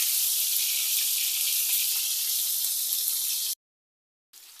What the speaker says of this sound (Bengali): পরের সাইডটাও ভেজে নিতে হবে।